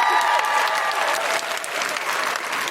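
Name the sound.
audience applause for a guest at a live comedy podcast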